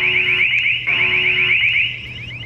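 A Maximus floodlight camera's alarm siren blares loud and close, a rapid warbling electronic tone repeating steadily without pause and with no voices.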